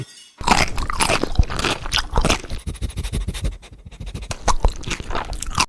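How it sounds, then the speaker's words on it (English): A crunchy snack is chewed in quick, loud, repeated crunches close to the mic. A short pause breaks the run partway through. "Crunch, crunch, crunch, crunch."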